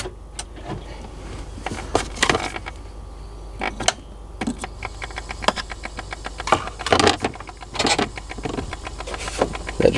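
An HVAC actuator on the back of a Volvo VNL semi truck whirs in short motor bursts, close and mechanical, with clicks and ticking between runs.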